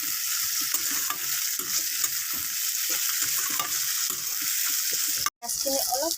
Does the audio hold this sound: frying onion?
yes